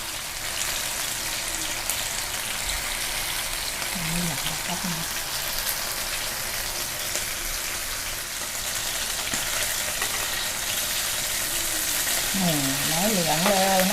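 Steady, loud sizzling of black-pepper chicken breast frying in a pan fills the whole stretch, with occasional brief voice-like tones rising faintly over the hiss.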